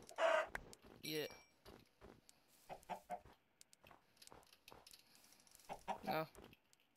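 Chicken clucking in the Minecraft video game, with short clucks scattered through the stretch amid game sounds and bursts of nearby talking.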